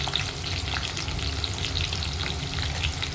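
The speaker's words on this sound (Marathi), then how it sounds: "तेल वगैरे तापून झालं आहे. आता ताई टाकते कांदा" Onion frying in hot oil at the start of a chicken dish; a steady, close sizzle with dense crackle and popping, no talk.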